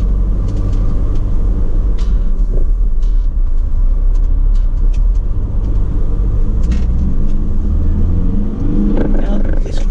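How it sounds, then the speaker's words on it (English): A VW Crafter CR35 extra-long-wheelbase panel van's engine running just after start-up, a steady low diesel rumble with faint mechanical ticking, heard close and continuous without talk. "I need to get the engine started up"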